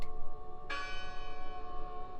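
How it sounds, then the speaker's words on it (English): A church bell rings in the eerie village setting of the Draugen game, a single struck tone that blooms into a bright, sustained ring, loud and clear over a steady ambient hum. "The bell's still ringing."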